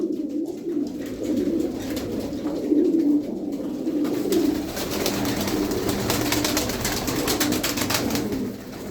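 Pigeons coo in low, throaty, overlapping murmurs, a continuous close chorus with faint fluttering and rustling behind it.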